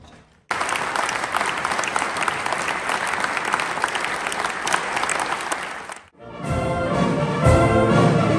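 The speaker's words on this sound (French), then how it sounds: "Je vous prie d'accueillir sous un tonnerre d'applaudissements la musique municipale" Concert audience gives loud, sustained applause welcoming a municipal band at a gala, dense clapping that runs for several seconds, breaks off abruptly, then gives way to a fuller sound with tonal elements.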